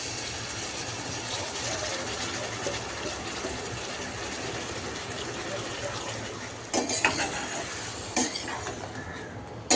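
Garlic, salt and ground spices fry in a pan while being stirred. A faint, steady sizzle hisses throughout, and a few sharp clinks of a utensil against the pan stand out near the end.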